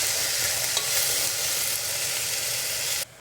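Vegetables frying in a pan for a vegan chickpea risotto soup, a steady close sizzle with soft stirring scrapes, continuous and fairly loud until it cuts off abruptly near the end.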